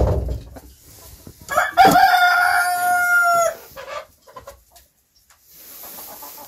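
A rooster crows loudly and close by in a long drawn-out call, with hens clucking before and after it and a few scattered quieter clucks, on a small homestead farm in winter in Kuusamo, Finland.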